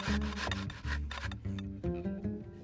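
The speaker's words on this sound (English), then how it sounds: "grate the onion into a bowl." An onion being grated on a box grater into a bowl, with rhythmic rubbing strokes in quick repeated passes, close and alone.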